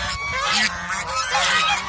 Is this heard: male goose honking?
yes